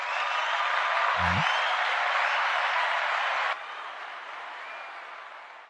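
An audience applauds at an event in Fort Liberté, Haiti: dense, steady clapping fills the clip, loud at first and then dropping to a somewhat lower level partway through, while someone speaks briefly over it.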